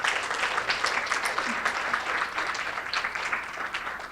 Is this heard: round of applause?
yes